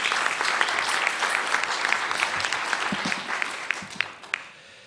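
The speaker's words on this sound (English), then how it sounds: "And now you can give them a round of applause" Audience applause fills a luncheon hall at the National Press Club, a dense steady clapping that holds loud for about four seconds before thinning out and fading near the end.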